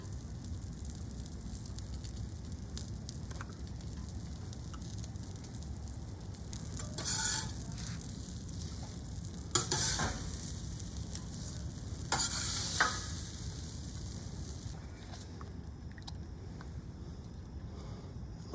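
Desert Gold seasoning is stirred into melted butter for smoked queso, a soft continuous sizzle and scrape with a few sharper utensil clinks and swishes, no talk.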